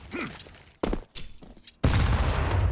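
Counter-Strike gunshots snap in several sharp separated cracks, followed by a loud grenade explosion that lands abruptly and sustains as a broad rumbling blast to the end.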